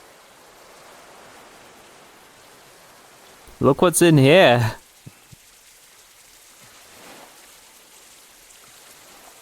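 Water trickling and dripping from sinks in a VRChat world, a faint steady patter of running water throughout, briefly interrupted by a person speaking close by.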